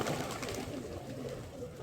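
Soft, low cooing of a Dubas pigeon murmurs steadily through a muffled, noisy background, with no clear breaks across the short stretch.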